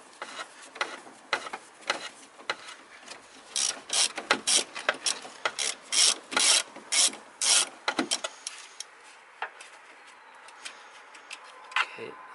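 A socket ratchet works close up on the throttle body bolts of a fuel-injected car or truck, giving bursts of rapid clicking that come in quick runs, then thin to a few isolated clicks.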